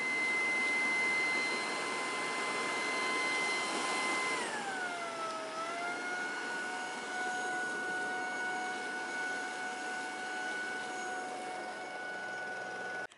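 A vacuum cleaner running steadily with a high whine that dips and settles as it shifts into turbo mode, then holds a strong, even roar.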